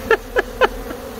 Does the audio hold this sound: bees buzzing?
yes